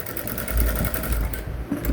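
A sewing machine stitches down a trouser seam, giving a steady, close, continuous mechanical whir that runs for the full two seconds with no talking.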